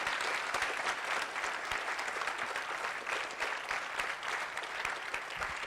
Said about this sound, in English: So let's give a huge round of applause for these folks.